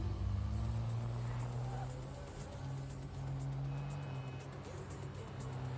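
A car engine in the Neverness to Everness video game hums steadily at a low pitch with a faint higher whine, close and continuous.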